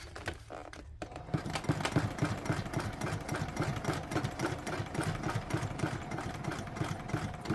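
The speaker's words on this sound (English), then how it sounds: "backstitch down the edge, and then you can start sewing" Sewing machine running steadily while stitching a gusset, a fast mechanical needle chatter that keeps an even rhythm, close and clear, with no talking.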